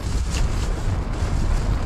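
Strong wind buffets a small camper van parked for roadside camping along a national highway, a steady, loud broadband roar with low rumbling gusts that continues without a break and with no talk over it.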